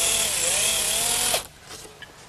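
A power drill bores pilot holes in wood for soft brass hinge screws, its continuous high motor whine holding steady before cutting off suddenly, followed by faint handling noises.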